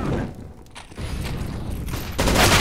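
Gunfire in the video game Counter-Strike, a continuous rattle of shots with a dip early on and a louder, denser burst near the end, close and without talk.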